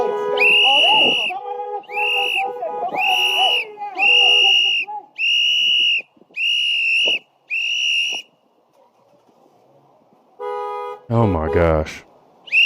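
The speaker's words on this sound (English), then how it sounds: "The whistles, the horns." Shrill whistle blasts from a protest crowd, with car horns honking, come in repeated bursts, loud and close, broken by short gaps; a voice exclaims briefly near the end amid more honking.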